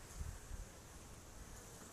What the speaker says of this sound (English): the bees are just going crazy